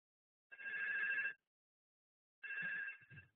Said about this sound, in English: I see the phone ringing